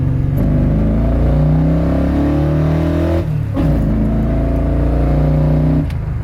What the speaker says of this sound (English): let's go with a real slight pull, second gear, down gear a little bit here